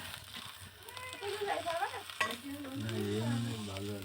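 Banana flower added to fried potatoes and water in a pan to steam, a soft steady sizzle and stir noise, faint and close, with a voice speaking over part of it.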